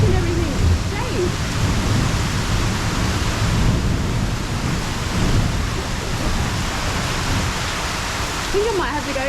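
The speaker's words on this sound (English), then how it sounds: "Big thunder coming." A massive thunderstorm rumbles over John's Pass at Madeira Beach, Florida, with heavy rain hissing in a steady, loud roar and low thunder rolling underneath throughout.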